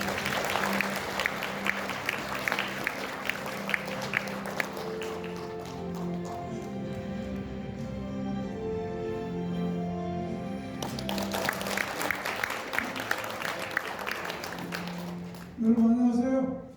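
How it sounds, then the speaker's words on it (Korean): An audience at a launch ceremony gives welcoming applause to an introduced economist, with clapping heard at the start, dipping under background music, then rising again before a voice begins speaking at the close. "큰 환영의 박수를 부탁드립니다."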